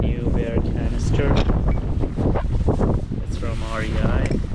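Strong wind buffets the microphone at a beach campsite on Assateague Island, roaring heavily and continuously while people talk over it.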